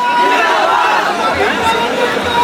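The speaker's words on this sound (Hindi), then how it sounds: "बहुत ज्यादा भीड़ है अभी यहाँ पर।" Large, dense protest crowd at Jantar Mantar in hot weather, a loud continuous babble of many nearby voices chattering and calling out at once.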